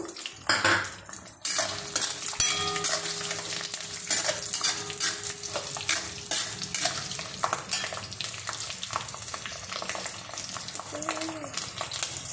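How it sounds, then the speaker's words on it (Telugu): Peeled garlic cloves dropped into a hot pan for ginger curry, with fenugreek seeds already in the oil, give a steady sizzle and frying crackle, mixed with stirring and utensil clatter, close and fairly loud throughout. "వెల్లుల్లిపాయ పాయ ఇలా రెబ్బలు వలిచేసి వేస్తున్నాను"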